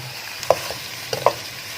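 Cauliflower frying over a high flame for aloo gobhi, giving a low steady sizzle with a few sharp clinks of a spoon against the pan, close by and with no talking.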